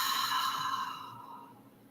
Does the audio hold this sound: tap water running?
no